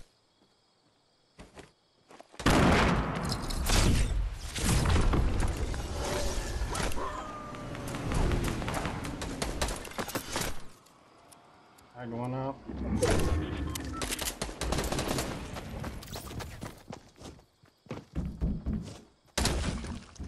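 Gunfire in Fortnite as a player shoots down a tree, including hunting rifle shots: loud bursts of shots and impacts in clusters, with brief quiet gaps, under game action and players talking.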